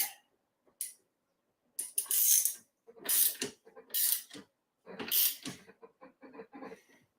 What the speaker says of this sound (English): So now I can tighten up the bolt because everything is square.